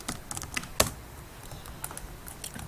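Rapid typing on a computer keyboard, a quick patter of light key clicks with one sharper tap early on, close and fairly quiet, with no talking.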